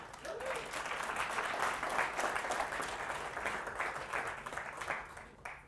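Applause from a lecture audience rises as a steady, dense wash of clapping, moderately close and sustained, then tapers slightly near the end.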